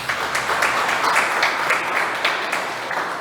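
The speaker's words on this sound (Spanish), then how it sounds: "Dale un aplauso a Jesús por eso." A church congregation applauds in steady, dense clapping that keeps going for a few seconds at an even level.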